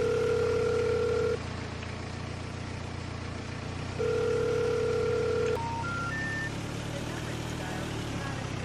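A telephone rings in a video game, two long electronic ring bursts separated by a pause, heard under a continuous low rumble with faint background noise.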